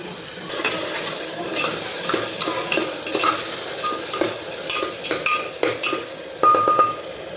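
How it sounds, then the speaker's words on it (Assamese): Water bubbling with masala in a pan for a Punjabi-style chicken curry, a steady close simmer with scattered scraping and clinking of a utensil against the pan. "এইখিনি দেখিছে পানী ফুটি উঠিছে"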